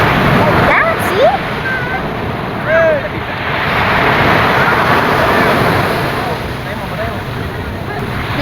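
Strong, heavy sea waves roll and crash continuously on La Union beach, a steady roar that swells and recedes under gusts of wind buffeting the microphone.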